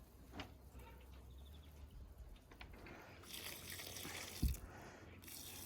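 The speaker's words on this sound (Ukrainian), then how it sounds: "І тоді доверху лійки набираю воду." A 10-litre garden watering can being filled with water: a faint trickle that swells into a louder, hissing gush partway through, with a small knock near the end.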